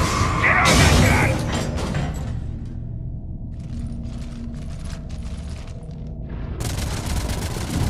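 Turret fire in the Mass Effect 3 video game rattles in dense, loud bursts with mechanical clatter, carrying on almost continuously over a heavy rumbling battle backdrop, then intensifying again near the end.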